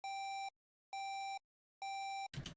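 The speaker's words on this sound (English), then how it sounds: "This is I think the same sound of my alarm." Three evenly spaced, bright electronic alarm-style beeps from the Unregistered Firearm game soundtrack ring out clean and loud, each about half a second long, followed by a short noisy burst.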